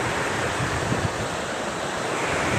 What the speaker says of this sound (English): Look at the water running down to there.